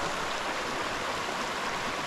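Creek water runs around a small outcrop of rocks in a steady, broadband rush that holds an even level throughout, with no voices.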